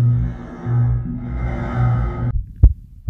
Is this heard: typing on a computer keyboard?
no